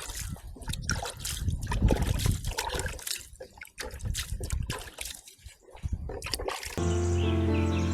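Water splashes and trickles irregularly as feet are washed after walking through a farm garden in Jaffna, with close uneven gushes and drips, then a steadier background tone at the end.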